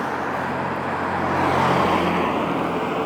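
Steady roadside traffic with cars driving past, a broad whooshing rumble that swells as a vehicle passes close, continuous and fairly loud.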